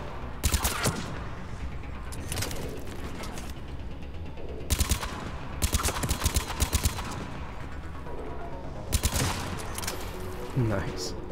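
Enemy turret in Mass Effect 3 firing in rapid, repeated bursts of sharp gunfire over a continuous background of combat noise, loud and close throughout.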